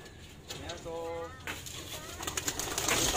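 Homing pigeons newly returned to the loft coo in a few soft, close calls, with someone talking nearby and faint rustling around the birds.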